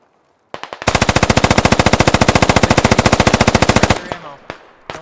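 A sustained burst of suppressing machine gun fire in a military video game, loud and close, with rapid evenly spaced shots running for about three seconds after a couple of single shots, then trailing echoes and a few stray reports.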